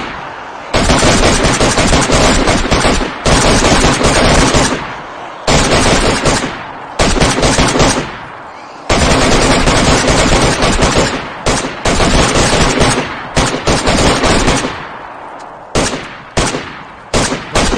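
Loud, close automatic gunfire rattles at a gate in the survival game DayZ. Long sustained bursts are broken by brief pauses, and the clip ends in choppier short volleys.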